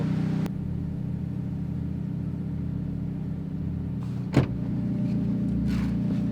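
Steady low cabin rumble from a 2013 Perodua Myvi fitted with ZERONE SSR550 adjustable coilovers on a test drive, with one brief thump partway through.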